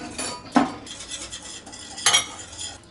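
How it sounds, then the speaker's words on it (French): A small whisk stirs red curry paste into sauce in a bowl, giving two sharp metallic clinks against steady light scraping, close and with no talk. "Je vais prendre un petit fouet"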